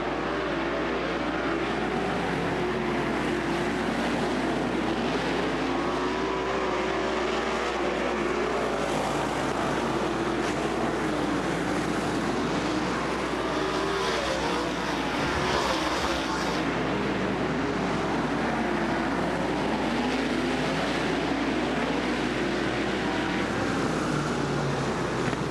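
Sprint car engines roar continuously at the 2010 ASCS Arkansas Short Track Nationals on a dirt short track, a loud sustained droning pack sound with faint voices beneath.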